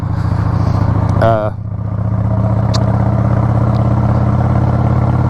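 A Harley-Davidson motorcycle runs with a steady low engine rumble while riding at modest speed, close and continuous, with a rider talking over it.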